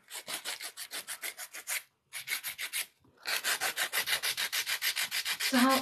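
Acrylic is sanded by hand with 80 grit sandpaper in steady, rhythmic rasping strokes, a run of even back-and-forth rubs, a brief pause, then another quick burst and a longer continuous run, close and clear with no talking.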